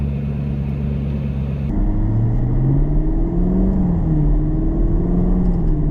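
A Chevrolet Camaro with an LT1 engine rumbles loudly up close, shifting partway through into a rising, wavering rev that climbs and falls in pitch.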